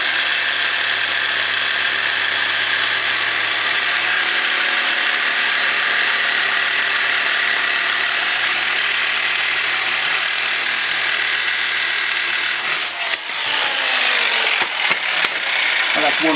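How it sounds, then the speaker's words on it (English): A jigsaw cutting sheet metal in a garage makes a continuous, loud buzzing rasp that stays even throughout, turning rougher and more irregular near the end as the cut finishes. "So I've always felt that a jigsaw is the best way."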